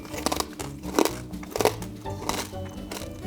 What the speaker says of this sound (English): I can't hear you over this crispy chewing.